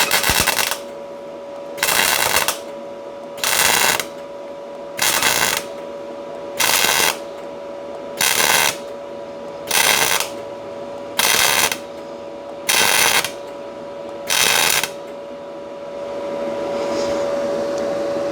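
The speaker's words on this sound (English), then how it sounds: "Let me show you a stitch weld." Stitch welding on the inner frame rail of a 1964–72 GM A-body car, a run of about ten evenly spaced crackling weld bursts, each a second or so long with short pauses between, loud and close, then a steady hiss at the end.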